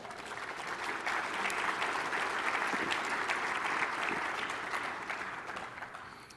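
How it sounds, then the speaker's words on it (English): Sustained applause from a large audience, dense and steady clapping that swells slightly and holds for several seconds before tapering. "Give yourselves a big round of applause."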